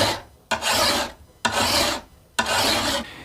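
A machete blade sharpened by hand with a file, three long rasping strokes pushed back and forth at an even pace, close and clear with brief pauses between them.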